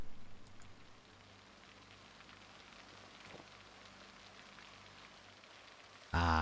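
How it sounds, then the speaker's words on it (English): Steady, soft rain falls in the video game Project Zomboid, a faint even patter throughout with a low hum beneath and a brief louder burst at the very end. "Ah, the good old rain ASMR to fill in the fact that the music isn't triggering."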